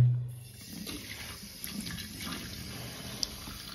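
Water pours into a drinker for week-old Brahma and Criollo cross chicks, a steady close trickle and splash running for several seconds with no talking.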